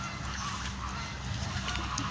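A swan honks while being fed outdoors at Sharjah, UAE, its calls close and moderately loud over a busy, noisy background, with no talk.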